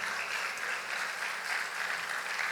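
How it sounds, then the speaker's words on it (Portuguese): A church congregation at a Baptist communion service applauds continuously, steady dense clapping from many hands that fills the room at an even level for the whole stretch, with no voice on top. "Aplauda o Senhor"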